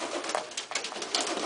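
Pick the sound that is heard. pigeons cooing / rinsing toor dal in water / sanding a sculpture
pigeons cooing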